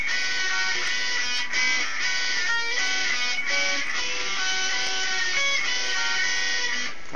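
An electric guitar plays the riff of a song, with clear sustained notes and quick changes in a continuous, moderately loud passage, with no voice over it.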